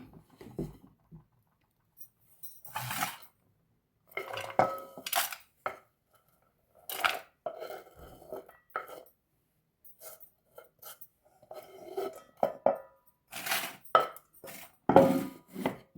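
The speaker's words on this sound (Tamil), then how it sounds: "இனி நாங்கள் ஒரு சட்டிக்கில் போடுவோம்" Chopped onion and green chilies tumble into a pan in scattered clinks and patters with a few scraping knocks of a utensil against metal, close and fairly soft, with gaps of quiet between bursts and no talk.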